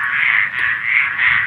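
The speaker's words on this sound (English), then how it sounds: "Listen to them frogs." Frogs croak and trill in a steady, dense chorus, loud and continuous with slight pulsing, heard in a neighborhood on St Vincent after a cyclone.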